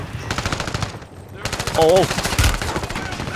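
Rapid automatic gunfire in Warzone, a dense rattling stream of shots close by and loud throughout, with a player's brief exclamations over it.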